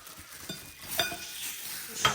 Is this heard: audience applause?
no